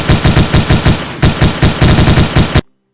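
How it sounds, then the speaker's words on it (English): Rapid automatic gunfire from a gun in a homemade Garry's Mod-style video game: a loud, evenly spaced burst of shots, a brief gap, then a second burst that cuts off abruptly into silence. "Made it so that we could actually fire the gun."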